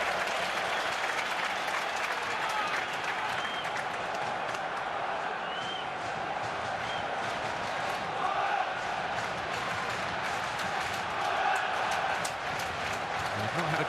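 A big football crowd at Middlesbrough's Riverside stadium during a Premier League match against Liverpool, a steady, dense roar of voices and clapping that fills the whole stretch without pause and swells slightly now and then.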